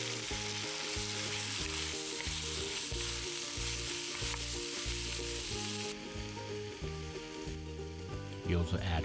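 Cubed red potatoes and fragrant garlic sizzle loudly in a hot pot, a steady dense frying hiss under music that runs throughout, with no voices.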